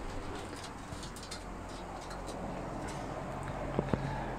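Pigeons coo softly at a rooftop dovecote, with a few brief, faint low coos and light background rustle, no talking.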